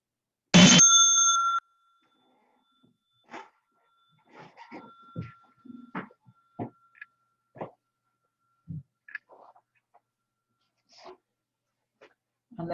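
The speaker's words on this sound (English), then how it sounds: "on the first sound of the bell, please rise." A meditation bell is struck once, ringing out clear and loud with a short sustained tone, followed by quiet rustling, soft movements and small scattered sounds as people rise.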